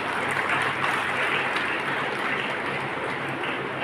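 At a school graduation ceremony, the audience gives students a broad, even round of applause. The clapping sounds like a soft, rain-like wash, moderately distant, steady for several seconds with no clear talk over it.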